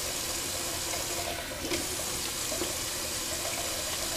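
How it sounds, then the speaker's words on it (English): Tap water running steadily for a quick room-temperature rinse during a shave with a Rockwell 6S razor, a continuous close hiss of flowing water at the sink with no talking. "I'm just going to do a quick cold water rinse"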